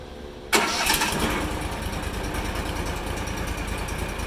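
The engine on a Wood-Mizer LT15 Wide sawmill, unrun for months, cranks and catches after a short quiet moment, then settles into a steady, close, rumbling idle.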